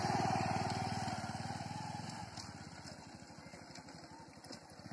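A motorcycle engine runs in first gear, a steady low chugging putter that starts loud and close, then eases into a quicker, slightly fainter rhythmic throb.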